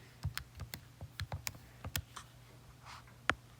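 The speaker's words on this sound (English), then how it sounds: "Type it into my calculator." Quick fingertip taps on a calculator keypad, about a dozen small clicks in an uneven burst then a final press, faint and close with no talking.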